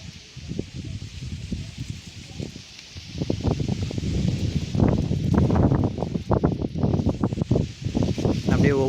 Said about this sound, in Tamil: கொஞ்சம் காற்று அடிக்க முடியல, அதனால தான் சொல்ல முடியல